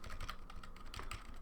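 Computer keyboard arrow keys pressed in a quick run of light, clicky taps at a steady pace, close by and alone with no talking.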